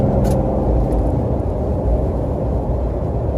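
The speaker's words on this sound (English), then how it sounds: "Now getting on the expressway, let's give it a little gas here, or diesel." A 2018 RAM 3500 diesel pickup accelerates onto an expressway, giving a steady, dense low rumble of engine and road noise heard from inside the cab, continuous and fairly loud throughout with no voices.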